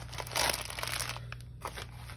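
Paper crinkling as a mailed envelope is handled up close, quiet rustles and crackles with a brief louder burst near the start.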